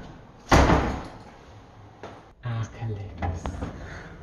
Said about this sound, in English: Doors are quite nice because those are quite original